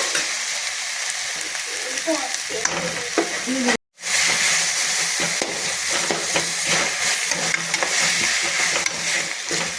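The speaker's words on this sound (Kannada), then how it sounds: "ಇದು ಚೆನ್ನಾಗಿ ಸಾಫ್ಟ್ ಆಗಬೇಕು, ಅಲ್ಲಿವರೆಗೂ ಫ್ರೈ ಮಾಡಿ" Tomato sizzles steadily in a hot pan, with stirring scrapes through the constant frying hiss and a brief dropout in the middle.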